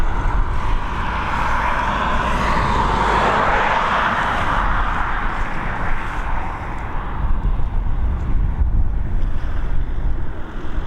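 An Air Canada airliner departing Dublin Airport for Toronto, a loud, broad engine roar mixed with gusting wind noise on the microphone, holding steady throughout with a slight swell in the first few seconds.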